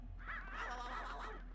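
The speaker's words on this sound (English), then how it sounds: "There's a crow outside." Crow cawing outdoors in the Luigi's Mansion 3 video game: a few harsh, repeated caws that sound fairly close and steady, with no talking over them.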